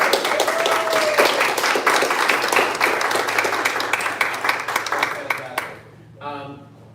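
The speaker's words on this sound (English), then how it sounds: "Let's give her a really big round of applause." An audience at a civic engagement training for precinct leaders gives a speaker a big round of applause, loud sustained clapping with a few sharp individual claps, fading out near the end as a voice begins talking.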